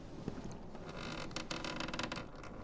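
A door creaks open in the horror video game White Night, a drawn-out, grinding creak that builds over a couple of seconds above a low ambient game hum, fairly quiet and without speech.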